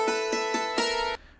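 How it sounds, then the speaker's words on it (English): A hammer dulcimer captured with overhead and internal contact mics plays four bright, ringing struck notes in quick succession, each with a sharp attack and shimmering overtones, then stops abruptly. "A hammer dulcimer, for those that don't know, is basically like a harp played with hammers"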